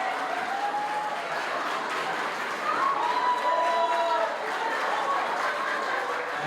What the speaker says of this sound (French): Allez, applaudissez-les à nouveau.